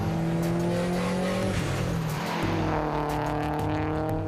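A turbocharged Subaru WRX engine revs hard and close, its steady droning pitch rising and falling through a gear change, with a brief rough dip midway and no talking.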